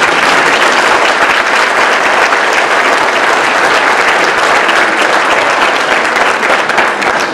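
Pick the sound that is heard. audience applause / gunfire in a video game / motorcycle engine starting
audience applause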